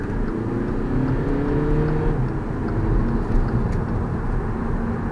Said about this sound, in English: Now in a diesel it's quite clattery.